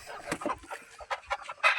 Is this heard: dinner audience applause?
no